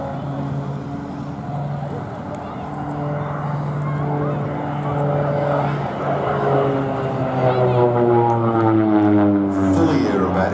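A North American OV-10 Bronco propeller aircraft performs an aerobatic display at an air festival, its steady engine drone rising and shifting in pitch as it passes, loud and continuous throughout the clip.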